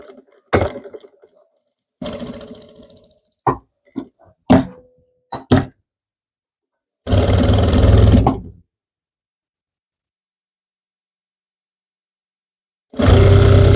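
A sewing machine stitches the front panel of a short jacket in two loud, sustained whirring bursts of about one and a half seconds each, preceded by several short clicks and knocks of handling, with silence between.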